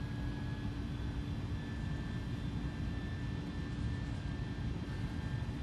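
Airbus A310-300 jet engines running up toward about half thrust on a runway before takeoff roll, a steady loud broadband roar with faint tonal whine, continuous and close throughout.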